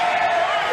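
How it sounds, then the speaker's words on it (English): A loud, steady wrestling crowd roars through a live indie show, its dense wash of noise staying constant and close throughout, likely mixed with commentary voices. "this crowd is so loud I can hardly think"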